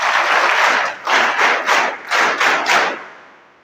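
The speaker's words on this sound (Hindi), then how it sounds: "जोरदार ताली बजाओ।" A seminar audience bursts into loud applause in an indoor hall. The dense clapping comes in a series of strong surges that swell and fade several times before dying away at the end.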